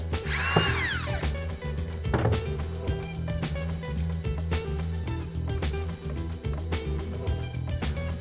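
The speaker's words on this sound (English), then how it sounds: "Better drill a bigger hole." A power drill whines up and spins down nearby, followed by grinding, scraping sounds and faint clicks as it enlarges a hole to 4mm in a spray paint stencil cap, continuing steadily.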